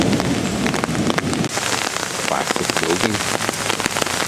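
Steady rain falls across a park in Medias, Romania, a dense, continuous patter of drops close around, with a voice speaking briefly over it.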